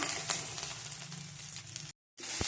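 Cashews frying in a pan for capsicum curry give a steady, moderate sizzle with scattered crackles, broken by a short silence before the sizzling resumes.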